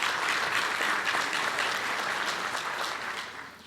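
Sustained applause from a crowd at a city's state of the city address, thanking event sponsors; dense even clapping throughout, tapering a little at the end.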